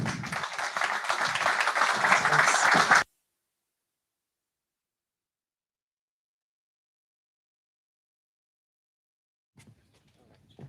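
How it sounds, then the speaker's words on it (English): Applause from a tech summit audience fills the first three seconds, then cuts off abruptly into near silence, with only a faint, brief rustle near the end. "let's give them a round of applause"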